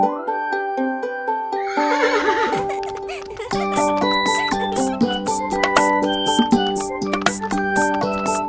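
A cartoon horse whinnies over a bright children's rhyme with melodic instruments, the neigh standing out loudly near the middle before the music carries on.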